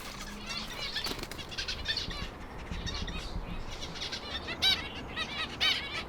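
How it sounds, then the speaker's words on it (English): Rapid bursts of wing flutter from a sparrow, with a few short chirps, close by and moderately loud against a faint background. "He fluttered around for a few seconds, panicked, then quickly found a small gap"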